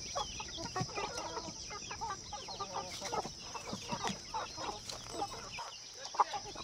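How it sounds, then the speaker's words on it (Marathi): Hens cluck on a farm in a busy, irregular stream of short calls from several birds at moderate distance, with a faint steady hum in the background and no talking. "कोंबडी बी मोठी आहे।"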